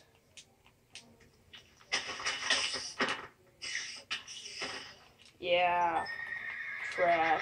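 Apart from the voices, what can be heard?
horses neighing in Minecraft video game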